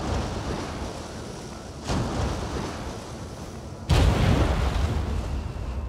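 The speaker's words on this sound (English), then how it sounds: "Missed the explosion" Explosions sound in the video game The Falconeer, a broad, rumbling burst with a sharper, louder boom near the end over a constant windy, ocean-like roar.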